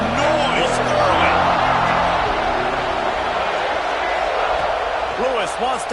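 A college football stadium crowd at a CU vs OSU game roars loudly and continuously, a dense wash of cheering with a commentator talking over it.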